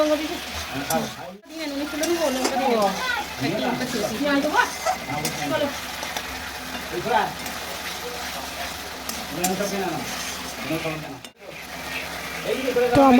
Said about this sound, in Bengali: এখানে সুন্দরভাবে মশলাটা কষা হয়ে গেছে